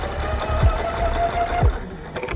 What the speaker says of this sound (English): the sewing machine in the house just suddenly start by itself without anybody touching it.